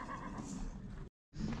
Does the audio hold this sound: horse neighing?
yes